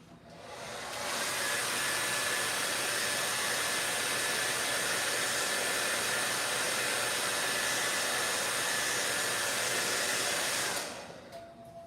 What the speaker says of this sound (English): I'm gonna dry this with my hairdryer